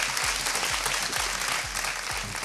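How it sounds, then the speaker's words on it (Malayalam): Dense, loud audience applause filling a television show stage, continuous clapping without a break. "കൈയടിക്കുന്നു."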